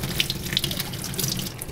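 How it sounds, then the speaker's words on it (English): Residual water runs steadily out of a long bathroom tap pipe run, a continuous close splashing flow that holds even for the whole stretch. "There's quite a lot of residual water coming out because it's a long pipe run."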